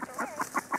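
Ducks quacking as they feed on sunflower seeds: four short, nasal calls in quick, even succession, close and moderately loud, with no talk over them.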